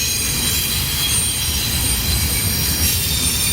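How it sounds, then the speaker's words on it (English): A DART light-rail train rolls past in Dallas, its wheels squealing loudly and continuously over a heavy, steady rumble, close by and with no voices. "Here comes another D.A.R.T train, D.A.R.T train, D.A.R.T, D.A.R.T, D.A.R.T. Rolling on by."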